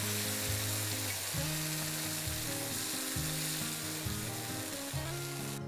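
Raw mango rasam with mango pulp and curry leaves sizzles loudly in a hot pan while being stirred, a continuous frying hiss with a repeating scrape every second or so, and no voices.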